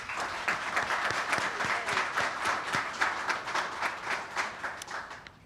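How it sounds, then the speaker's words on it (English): An audience at a HUD press conference on a housing supply action plan breaks into sustained applause, dense overlapping claps at steady loudness that fade slightly toward the end, with no voices over them. "please join me in giving a round of applause to Senator Sherrod Brown and Congresswoman Joyce Beatty as well"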